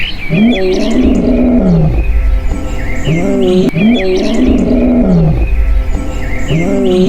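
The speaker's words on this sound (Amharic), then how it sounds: "በድንገትም ጸጥታ የነገሰበት አካባቢ በሚያስገመግመው የአንበሳ የማጓሪያ ድምፅ መረበሽ ይጀምራል" A male lion roars in a deep, repeated series of grunting calls in the savanna, loud and close, while birds chirp faintly in the background.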